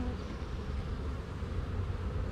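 Honeybees in a beehive cell builder give a steady, continuous hum, close and fairly faint, with no talking.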